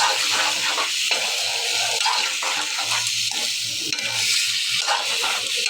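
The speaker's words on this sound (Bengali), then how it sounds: "তো দেখো বন্ধুরা কাটা সবজি দিয়ে দিচ্ছি লাউ আলু মিষ্টি বেটা একটু করে দিব" Cut bottle gourd, potato and pumpkin going into a frying pan with fish head curry, a busy sizzling hiss with stirring scrapes and clatters, close and continuous.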